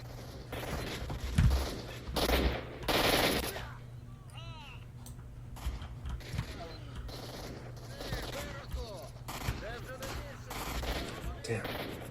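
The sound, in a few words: gunfire from bandits attacking in the video game S.T.A.L.K.E.R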